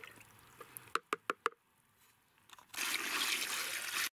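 Water is poured into a container holding a sample during sample cleaning, with a few sharp knocks and clinks first, then a quiet pause, then a steady loud pour or splash lasting over a second.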